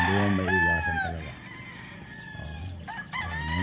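A rooster crows loudly and nearby on a poultry farm, with a long drawn-out call at the start and another crow near the end, while hens cluck softly in between.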